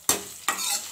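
Curry leaves, chilli, ginger and garlic hit hot oil in a pan with two loud, bursting sizzles that settle into a steady close frying hiss.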